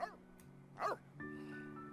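A pet dog in The Sims 3 lets out a short yelp near the start and a louder bark just before one second, followed by a sustained tonal game sound. No talking is heard.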